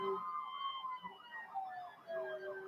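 A video game fire engine siren wails, rising and falling repeatedly at moderate volume, steady and continuous, with no voices.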